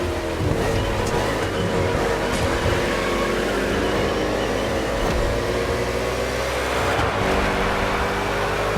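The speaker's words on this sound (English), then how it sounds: "The green flag is in the air, and we are racing in a purely urban race here in Hawaii." NASCAR stock cars race on a purely urban street circuit in Honolulu, Hawaii, in The Crew Motorfest game, their engines a loud, continuous dense roar with layered drones and shifting pitch throughout.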